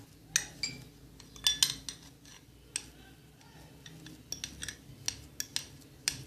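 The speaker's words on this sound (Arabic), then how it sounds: "هنهرسها بقى كويس جدا بالشكل ده" A spoon mashing ingredients for a face mask in a bowl, making irregular light clinks and taps against the dish, close and fairly quiet.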